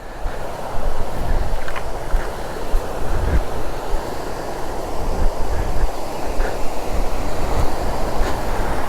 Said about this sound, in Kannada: ಇದೆ ಅಂಜುವೀಡು ವಾಟರ್ ಫಾಲ್ಸ್